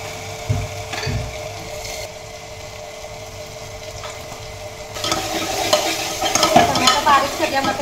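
Chopped vegetables stirred in hot oil for tempering in a home kitchen pan, a steady low sizzle with scraping stirs that grows louder and busier after a few seconds, with no voices.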